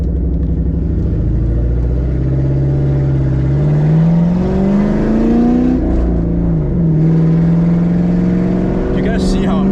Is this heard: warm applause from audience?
no